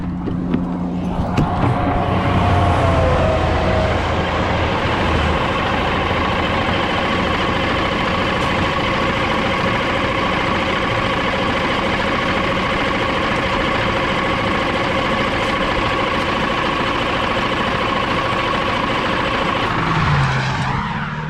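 A vehicle engine is cranked after its fuel filter is primed, producing a loud, steady, churning drone that runs nearly unbroken for about twenty seconds with no speech.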